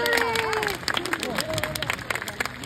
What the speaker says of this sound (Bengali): ওর জন্য জোরে একটা হাততালি